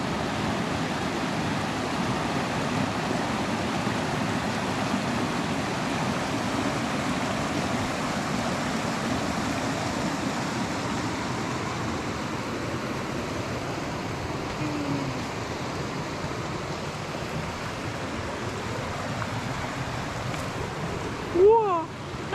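A mountain stream at Panther Gap in Sequoia National Park rushes and burbles continuously, a steady broad wash of flowing water with a faint brief voice or squeak near the end.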